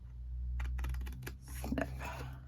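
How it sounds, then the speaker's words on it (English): Scissors snipping paper to cut a gluing tab on a handmade triangular treat box: a quick series of close, soft crisp snips and rustles over a low steady hum. "So snip, snip,"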